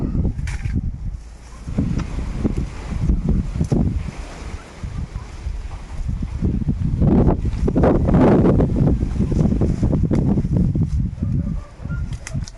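Strong wind roars and buffets the microphone in heavy gusts throughout, with a rushing, rumbling low end and no voices.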